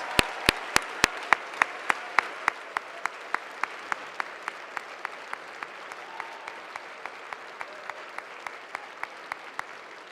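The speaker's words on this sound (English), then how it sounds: "I'd like to have one final round of applause for all of our award recipients this evening." A crowd at a senior honors night ceremony applauds steadily, with crisp claps continuing throughout at an even pace.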